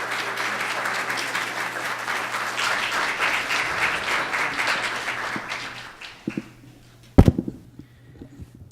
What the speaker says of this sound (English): let's have a clap, big claps for